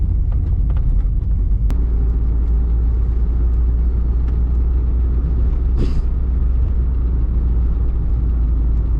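A vehicle drives along a road leaving the Daniel Boone National Forest, giving a loud, constant low rumble of engine and road noise from inside, with a short hiss near the middle.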